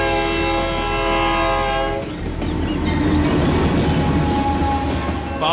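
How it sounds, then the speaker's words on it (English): A train horn blares with a sustained chord, then the loud rumbling roar of a passing train with rattling wheels continues near Lisbon, North Dakota, no voices. "There's a train coming."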